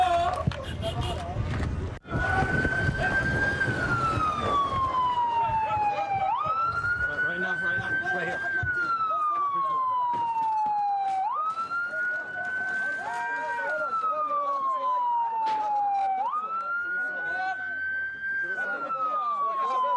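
An ambulance siren wails on a West Bank street where gunfire and an explosion were heard. It rises and falls in long repeating sweeps, loud and steady over crowd noise and voices.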